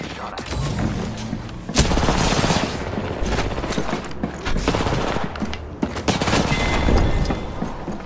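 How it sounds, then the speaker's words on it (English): Rapid bursts of automatic gunfire with booming shots rattle loudly and close in a video game, coming in dense volleys with brief pauses between them. "Getting shot at."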